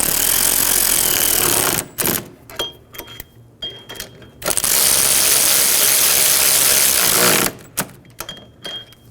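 Ratchet snugging down wheel bearing hub bolts on a 2007-2011 Toyota Camry: two long loud bursts of rapid clicking, each followed by short scattered clicks and pauses.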